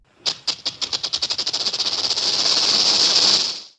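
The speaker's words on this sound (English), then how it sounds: "Snake." A snake's hiss starts as a series of rapid rattling pulses and then settles into a steady, loud, airy hiss, close up and alone for about three seconds before it cuts off.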